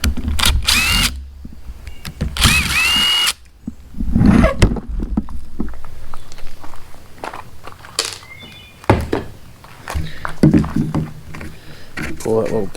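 Power drill removing screws from a cargo trailer being converted to a toy hauler, several short loud whirring bursts separated by pauses and handling clatter, with someone talking in between.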